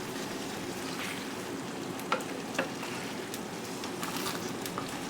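Red wine gravy for coq au vin reducing over medium-high heat in a pot while being stirred, a steady close sizzle and bubbling with a couple of brief scraping knocks from the spoon.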